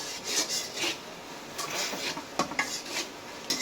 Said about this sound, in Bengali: মশলাটা ঠিক এভাবে কষিয়ে নেবেন।